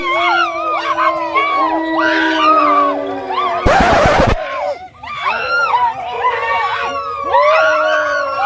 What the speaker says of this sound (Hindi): चिल्ला रहल है ओ बाहर के है? हल्ला हो रहल छै